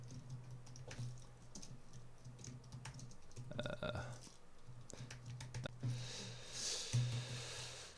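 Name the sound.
typing notes on a computer keyboard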